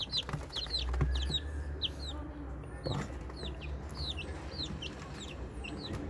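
Chicks and chickens cluck and peep in quick bursts while being fed meat, close and fairly faint over a low background hum, with a brief knock partway through.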